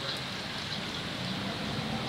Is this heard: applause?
no